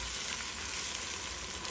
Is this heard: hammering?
no